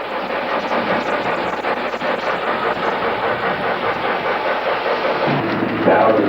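Electric model trains run continuously around a layout with overhead catenary, giving a steady rolling rumble with faint clickety-clack over the track joints, close and loud throughout.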